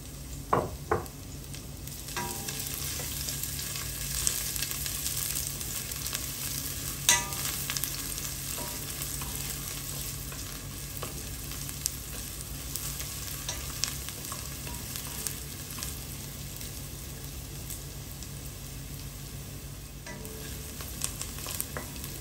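Garlic sizzles steadily in a hot pan for a Filipino chicken igado, with a constant frying hiss and occasional clinks and scrapes of stirring, close and alone with no voices.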